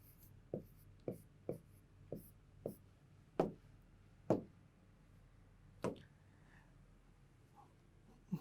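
Pen or chalk strokes writing out a maths probability problem, a series of short sharp taps and scratches at irregular intervals, close and fairly quiet with no talking.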